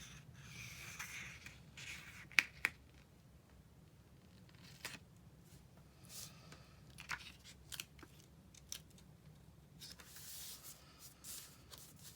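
Paper being trimmed with scissors: faint, scattered snips and crisp cutting clicks at irregular intervals in a very quiet room.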